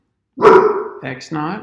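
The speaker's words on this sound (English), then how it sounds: "That's the dog." A household dog barks loudly and close by, giving a few sharp, overlapping barks while a person keeps talking during a lesson on tangent planes.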